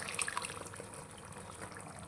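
Water pours and trickles from a pressure cooker in a soft, steady stream while mutton cooks, close by and fairly quiet, with no one speaking.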